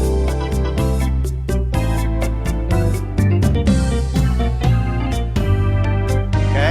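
A Lowrey electronic organ plays sustained chords and melody over a steady programmed drum and bass rhythm accompaniment, loud and continuous with regular beat accents.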